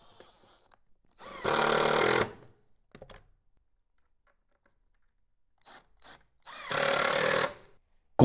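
A power drill drives screws with washers to fix casters onto a wooden mobile workbench, giving two loud, close bursts of about a second each, separated by quiet gaps with small handling knocks.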